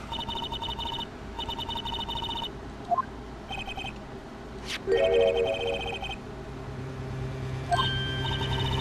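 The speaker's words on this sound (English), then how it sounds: "You pressed redial on that there phone, didn't you?" Telephone in the Phoenix Wright: Ace Attorney video game rings after redial is pressed, sounding in bursts of bright electronic trills separated by short gaps, with other synthetic game effects between them.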